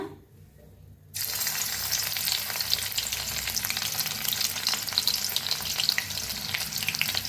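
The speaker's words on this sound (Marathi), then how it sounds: "आता आपलं तूप बी तेल बी चांगलं गरम झालेलं आहे त्याच्यात टाकूया लसूण" Garlic hits hot ghee and oil in a home kitchen and erupts into a loud, dense, continuous frying sizzle after a second of quiet, heard close up with no voices.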